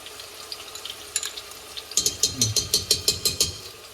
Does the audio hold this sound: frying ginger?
yes